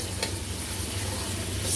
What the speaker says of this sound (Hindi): 2 मिनट के लिए हम प्याज को फ्राई करेंगे।